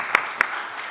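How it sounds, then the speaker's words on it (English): Conference audience applause fills the short moment, a steady wash of many hands with a couple of sharper claps standing out. "let's give them a round of applause"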